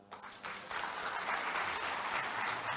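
Audience applause at an organization's meeting, a few claps at first, then a steady full round of clapping from a room of people, moderately distant and even throughout.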